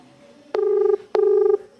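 An outgoing telephone call rings out as two matching electronic tone bursts about half a second each, evenly spaced and clear against near silence.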